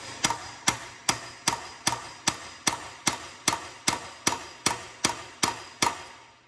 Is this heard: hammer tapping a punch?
yes